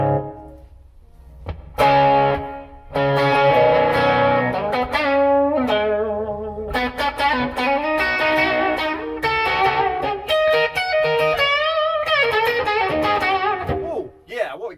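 Processed guitar notes ring through a SIVA virtual analogue multi-effects unit set to echo, with repeating tails trailing each phrase at close, loud level.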